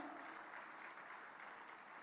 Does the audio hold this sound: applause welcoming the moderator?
yes